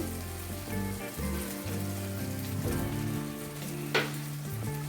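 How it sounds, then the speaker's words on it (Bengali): Sour yogurt going into a sizzling rohu fish curry over low heat, a steady frying hiss with background music and a brief sharp splash near the end. "তো আমি টক দইটা দিয়ে দিচ্ছি।"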